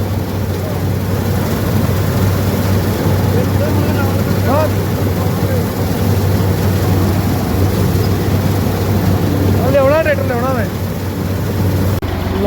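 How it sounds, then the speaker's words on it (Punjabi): A tractor engine drones steadily with a low, constant rumble throughout a wheat harvest, while someone talks over it. "ਟਰੈਕਟਰ ਥੱਲੇ ਲਿਆਵਾ"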